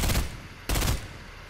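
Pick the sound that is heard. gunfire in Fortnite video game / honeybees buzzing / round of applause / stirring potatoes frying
gunfire in Fortnite video game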